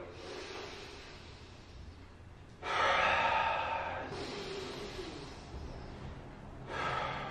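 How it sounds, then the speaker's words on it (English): Slow, relaxed belly breaths during a core exercise at home: soft airy inhales and exhales, with a louder, fuller breath in the middle and another at the end, close and alone. "I'm going to try to keep my spine neutral, and I'm going to breathe into my belly"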